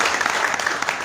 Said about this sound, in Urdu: تالیاں بجائیے اپنے لیے سارے